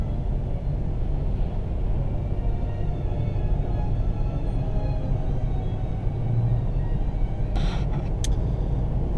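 A car drives along a road on the way to York Regional Forest's Hollidge Tract in December, a steady low tire-and-engine rumble filling the cabin throughout, with no talking.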